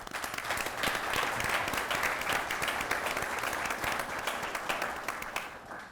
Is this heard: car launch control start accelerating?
no